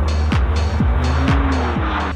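A car accelerates hard with a loud, close engine roar, overlaid by a repeating rhythmic whine about every half second that suggests tire squeal.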